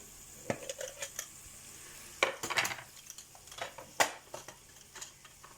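Spices tipped into a frying pan while cooking a magur fish curry with papaya, giving a few sharp clinks and bursts of sizzle against a steady low kitchen hiss, with no one talking.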